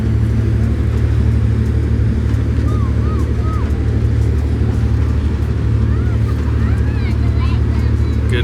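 Steady low engine rumble and churning water from a ferry pulling out toward Martha's Vineyard, continuous and loud throughout, with faint gull-like calls and distant voices above the drone.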